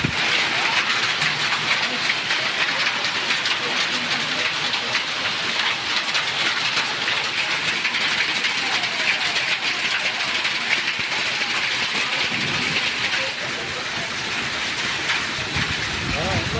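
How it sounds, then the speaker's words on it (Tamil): Hail pours down with strong wind in Chitrakoot, Madhya Pradesh, a dense unbroken roar of pelting ice and gusts that holds loud for the whole stretch and eases slightly near the end. "மத்திய பிரதேச மாநிலம் சித்ரகூட் பகுதியில் பலத்த காற்றுடன் ஆலங்கட்டி மழை பெய்தது."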